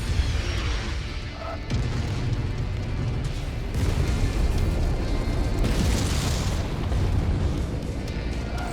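Artillery explosions in MechWarrior 5: Mercenaries, Rise of Rasalhague beach-head battle, a continuous heavy rumble of booming blasts with several sharper hits standing out, loud and dense throughout with no talking.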